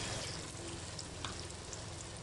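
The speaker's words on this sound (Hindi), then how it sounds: "तब मैंने एक कढ़ाई में ऑयल डाला, तो क्या करूँगा मैं पकौड़े तलना स्टार्ट करूँगी" Spinach pakoras fry in oil in a kadhai, a steady close broadband sizzle with faint crackles running throughout at an even level, no voices.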